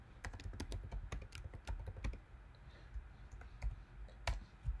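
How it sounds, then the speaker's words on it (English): Typing on a computer keyboard while entering an SMS message in business software, a steady run of quick, close key clicks with a few louder taps and no talking. "if I were to type a message in here"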